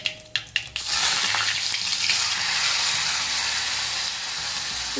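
Garlic, salt and green chili paste hitting hot oil in a pan for a rustic Maharashtrian patvadya curry, a few sharp clicks of tipping it in, then a steady loud sizzling hiss that settles slightly softer near the end.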